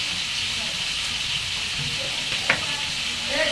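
Fish and vegetables frying in a pan are stirred and mixed together, making a steady close sizzle and hiss with occasional scraping strokes and one sharp clink, and no talking.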